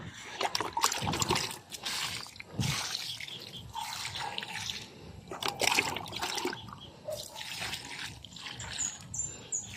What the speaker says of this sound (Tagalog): Damihan natin ang pagdilig.